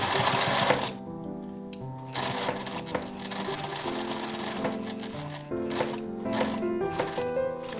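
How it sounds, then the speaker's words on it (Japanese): A domestic sewing machine stitches over existing stitching while making a seam pocket for a garment, running in steady bursts with brief pauses and speed changes, close and clear with no talk. "ステッチの上を縫います。"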